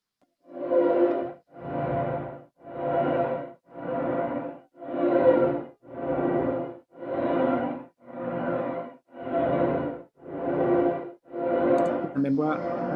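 Synth notes with a flanger effect added in Ableton, twelve evenly spaced sustained tones of about a second each with a sweeping, swirling character, alone and fairly loud.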